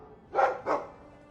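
Two short, muffled barks from a dog in a video game, spaced about a quarter second apart and fairly faint against a quiet background.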